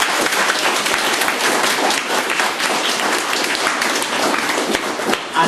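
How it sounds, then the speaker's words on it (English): Loud, dense applause from an audience at a library open mic evening for young writers in Birr, continuous clapping filling the room without a break. "I think Caroline deserves great, great applause for the work that she has done in the last 3 months."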